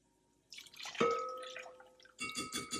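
Evaporated milk is poured into a container for flan, a short splashing liquid pour with a ringing vessel tone, followed by a second burst of pouring sounds.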